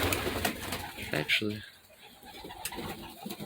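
Pigeons coo softly in a loft holding young hatchlings, low throaty calls repeating close by, with someone talking briefly over them.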